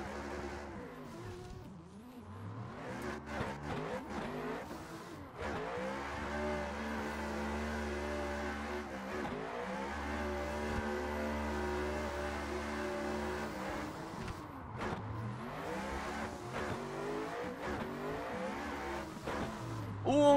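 A car drifting in a racing video game, driven from a third-person chase camera, with a steady engine drone and long wavering tire squeals that rise and fall as the car slides through corners.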